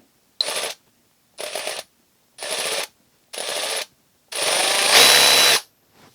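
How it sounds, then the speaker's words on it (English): A battery-powered ratchet runs in five separate bursts, four short whirring spins with silent gaps between them and then a longer final run, its motor buzzing loud and close with no talking. "so many people are switching over to some sort of a battery-powered ratchet"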